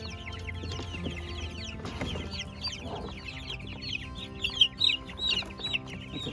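Chickens cluck and chirp steadily in a coop, with busy overlapping calls that grow louder toward the end and some faint background noise.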